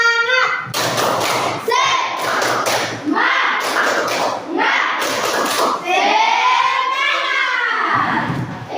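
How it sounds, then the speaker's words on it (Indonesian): Students in a classroom perform a rhythmic spirit clap, with loud clusters of group claps and taps mixed with children's voices and shouting, ending in a rising chanted call. "Tepuk semangat."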